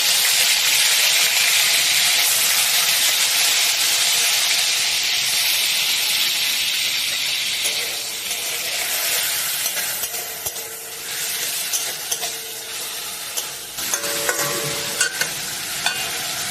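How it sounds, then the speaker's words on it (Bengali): Chicken fries in hot oil in a heated wok, giving a loud, continuous sizzle. Scraping and rattling from stirring break through as the hiss eases slightly partway through, with no talk. "এবারে আমি চিকেনটাকে ভেজে নেব।"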